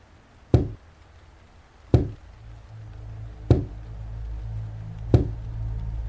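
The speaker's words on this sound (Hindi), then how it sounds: "हमारी बालकनी के दरवाजे पर फिर खटखट होने लगी।" Four loud, sharp knocks strike a balcony door at an even spacing of about a second and a half, close and dry, over a low hum that builds behind them, used as a sound effect in a spoken horror story.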